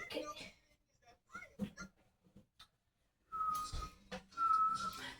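A person whistles a sustained, clear tune in two bursts, loud and close, with speech and other sounds before it.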